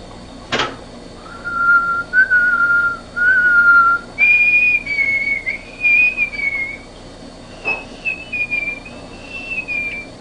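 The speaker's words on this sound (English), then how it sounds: "Try to whistle in and out a low note and then a high note." A person whistles, holding a lower sustained tone in short wavering phrases and then jumping to higher held notes, clear and close with brief gaps between phrases and no speech.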